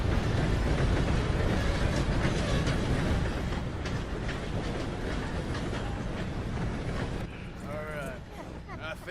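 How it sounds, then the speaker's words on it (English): A train rumbles past in the Red Dead Redemption 2 game world, a loud, steady broadband roar filling the first seven seconds before easing as voices and shouts come through at the end. "Gotta beat that train, Morgan!"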